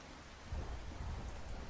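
A thunderstorm in the video game OutBRK, with a low thunder rumble that swells in about halfway through, over a steady hiss of rain, quiet and without any voices.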